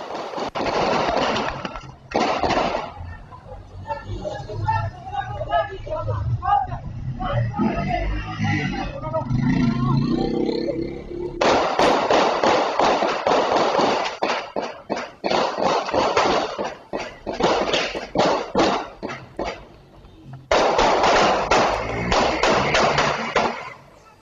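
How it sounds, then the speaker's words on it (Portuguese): Sharp bursts of rapid popping gunfire at a bar in Duque de Caxias come in clusters, mixed with frantic shouting and screaming voices throughout. "o barulho dos tiros e as pessoas desesperadas."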